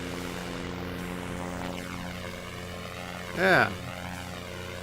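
A propeller airplane engine drones steadily during takeoff in SimplePlanes, a sustained tonal hum with pitch sweeping as it climbs, moderately faint, with someone speaking briefly over it.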